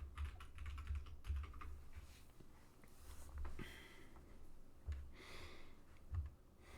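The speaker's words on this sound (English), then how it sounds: "we'll go ahead and put our password back in" A password typed on a computer keyboard, quick soft key taps in short irregular bursts, close but quiet, with no voices.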